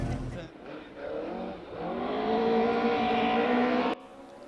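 Rally car at the Grampian Forest Rally, fitted with newly set-up suspension, its engine rising in a steady rev as it passes close, then cutting off sharply; a voice talks briefly at the start.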